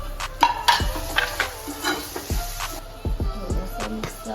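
Tomatoes and vegetables frying in oil for an egg gravy, a low sizzle under repeated scraping and clinking stirs of a utensil against the pan, close and uneven in rhythm.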